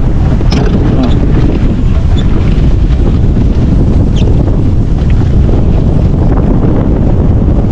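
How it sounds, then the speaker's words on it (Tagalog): Strong wind buffets the microphone in a constant heavy roar, with faint water and boat noise beneath and some indistinct voices. "Lakas ang hangin."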